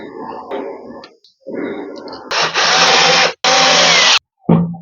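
An electric screwdriver drives a screw into a manual household water pump during servicing, sounding as two close, loud bursts of whirring motor a second apiece, with a brief restart at the end after quieter handling noises.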